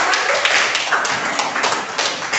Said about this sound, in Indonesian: yuk, tepuk tangan. Ya, biar semangat.